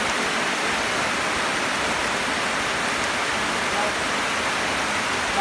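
Steady rain falls outdoors in an open yard in front of a house, a constant, even hiss of downpour with no breaks across the whole stretch.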